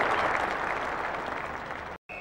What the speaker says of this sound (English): Warm applause all the way around